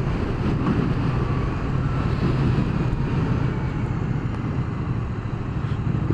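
A Triumph Street Cup motorcycle rides through town, giving a steady low engine drone blended with heavy wind rush against the microphone, continuous and close, with no voices.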